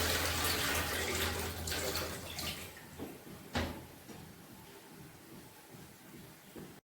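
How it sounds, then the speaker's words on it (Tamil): Freshly peeled home-harvested turmeric is washed in water, with sloshing and splashing that fades to quieter trickles and a few scattered splashes. "அதை நல்லா அலம்பி விட்டு அதுக்கப்புறம் சுடுதண்ணியில் போட்டு அதை முக்கணும்"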